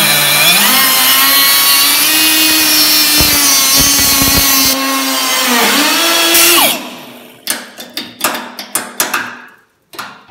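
Rusty metal being cut off a car fender with a power tool, a loud droning whine that rises and dips in pitch under load, then stops and gives way to a few sharp clanks and scrapes.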